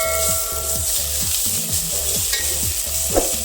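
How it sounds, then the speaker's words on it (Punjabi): Onions fry with asafoetida and crushed ginger and garlic in a pan for a potato and soya chunk curry, sizzling steadily under quick, rhythmic spatula stirring strokes. "ਪਿਆਜ਼ ਨੂੰ ਆਪਾਂ 3-4 ਮਿੰਟ ਵਾਸਤੇ ਭੁੰਨ ਲਵਾਂਗੇ"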